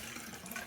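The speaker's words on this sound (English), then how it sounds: "I'm gonna wash my hands real quick." Tap water runs steadily over hands being washed in a sink, a soft, faint and continuous splashing hiss.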